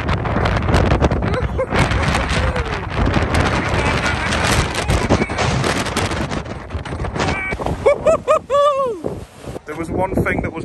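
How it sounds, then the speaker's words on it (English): Strong wind roars and buffets loudly and continuously on Holyhead Breakwater, blasting across the microphone, with voices calling out near the end. "this wind is horrendous now"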